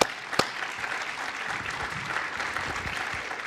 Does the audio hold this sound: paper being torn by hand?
no